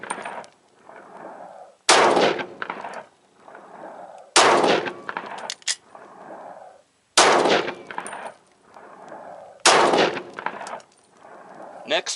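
A Glock 33 Gen4 pistol fires rounds through a chronograph: four loud, sharp shots spaced roughly two and a half seconds apart, each with a brief ringing tail and low rumble in the gaps.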